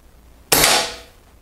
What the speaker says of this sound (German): also noch ein Schuss